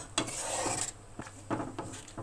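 A fried onion, garlic and cumin tempering goes into a pot of lentil dal with soft clatter and scraping against the pot, some brief clinks, and a faint fizzing hiss underneath.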